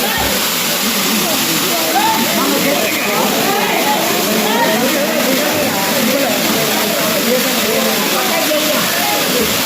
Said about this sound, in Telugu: ఇప్పుడు ఫుల్ వస్తాయి వాటర్